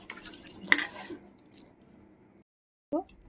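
A whisk or spoon clatters briskly against a bowl while beating a fine batter with water for chili paneer, a few sharp clinks over soft stirring, close and alone, then a brief pause and one more clink.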